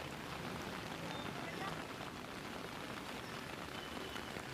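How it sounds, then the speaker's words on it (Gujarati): Heavy rain driven by wind falls across Navsari district during monsoon flooding, a dense, steady hiss of downpour that stays faint and even with no breaks. "નવસારી જિલ્લામાં પવનો સાથે ભારે વરસાદ વરસી રહ્યો છે"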